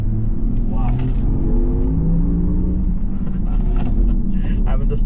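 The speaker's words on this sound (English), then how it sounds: "there's a slight murmur, there's a science fiction sound coming out on this sport mode" A Porsche electric SUV in sport mode gives off a low synthetic hum with a science-fiction tone from inside the cabin, steady and fairly loud, while someone talks over it.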